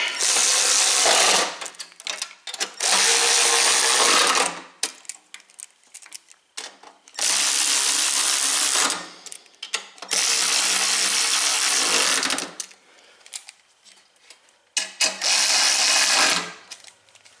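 Bolts being driven on the gas tank of an Ariens snow blower, heard as five loud bursts of rapid ratcheting, each lasting one to two seconds, separated by short pauses with faint handling clatter and no talk.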